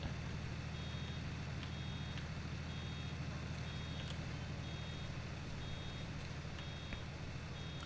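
Baler and tractor at work in Farming Simulator 2019, a steady, loud engine drone running throughout with a faint high beep repeating at a regular rhythm, no talking.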